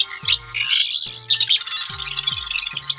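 A 14th Doctor toy sonic screwdriver on its third, yellow setting whirs with a high, warbling electronic tone, punctuated by repeated low pulsing buzzes in a steady rhythm, fairly loud and close.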